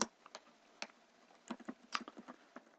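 Keystrokes on a computer keyboard while entering data in a spreadsheet, quiet and irregular clicks in short bursts with pauses between them, no talking.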